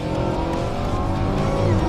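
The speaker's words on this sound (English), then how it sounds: "it's a muscle car with the most primal, ridiculous scream" A Dodge Challenger Redeye Widebody muscle car engine roars at a steady, loud, full-bodied pitch, close and sustained without any talk.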